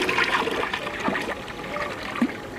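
Water pouring into an empty tank while a liquid organic fertilizer mix is being prepared, a steady splashing, trickling flow with a few louder splatters, close and moderately loud.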